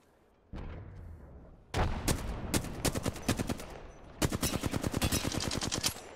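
Gunfire in a shooter video game: an initial dull blast, then rapid bursts of close, loud automatic shots in quick rhythmic volleys, with a brief pause between two long strings of fire and no talking.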